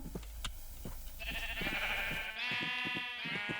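Sheep bleating in Minecraft on an FTB Stoneblock modpack world, a couple of wavering bleats heard over clicking and a rising tonal buzz, fairly close and clear.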